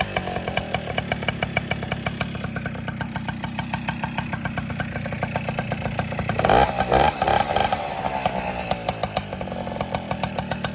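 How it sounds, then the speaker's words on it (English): A 1996 Tomos Sprint two-stroke moped engine runs close by with a buzzy, pinging idle, then revs sharply for a few seconds around the middle before settling back to a steady idle. "Hear the ping, see the smoke. You've been passed by a two-stroke."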